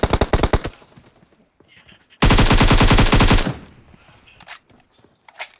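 Automatic gunfire from the PUBG video game comes first as a short rapid burst, then as a longer, loud, sustained volley, with a few faint scattered noises between the bursts.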